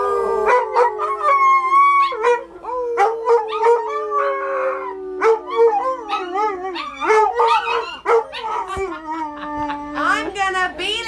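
Several dogs howl together in a long, rising and falling chorus, loud and close, with overlapping wavering tones that continue throughout.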